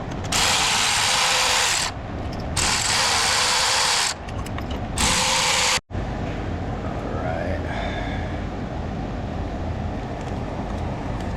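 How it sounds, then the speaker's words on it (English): A power tool cracks loose the bolts on a Genesis sedan throttle body, giving loud close bursts of high whirring ratchet noise in several runs, then it stops and a quieter background follows. "we're just going to go ahead and break these bolts free."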